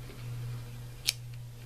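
A single quick snip of deckle-edge scissors cutting paper at a crafting table, a short crisp cut over a low steady hum.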